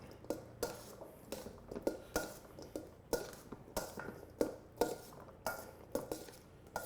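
Soft, steady spoon scrapes and taps against a bowl while folding berries and nectarines into a fruit salad, about two strokes per second in an even rhythm, close and fairly quiet.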